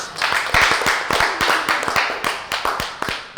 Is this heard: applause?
yes